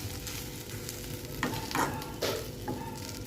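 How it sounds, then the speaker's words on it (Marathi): Okra (bhindi) frying in oil in a pan, a low continuous sizzle with several scraping stirs of a spatula against the pan, close and fairly quiet, no talking. "तर इथं आता मी इथे भेंडी पूर्ण तेलामध्ये फ्राय केलेली आहे."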